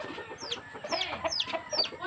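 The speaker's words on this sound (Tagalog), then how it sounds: "Patukam tayo ng manok." Chickens cluck and chirp repeatedly while being fed at a home in the Philippines, a busy, fairly close flock chatter with overlapping short calls and no talking.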